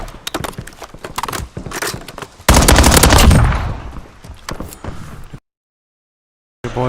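Single-fire gunshots in an online shooter game, a rapid string of sharp, loud cracks in close succession with a dense louder burst in the middle, then a brief silence before sound resumes.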